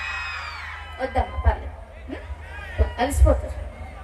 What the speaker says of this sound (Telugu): అరుపు అంటే గట్టిగా మళ్ళీ అరండి